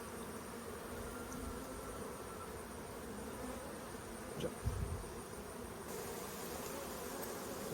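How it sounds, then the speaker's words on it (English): Angry honey bees hum around an opened hive in a continuous, even buzz, with a brief louder bump midway and a slight brightening toward the end; no one speaks. "That's an angry bee noise."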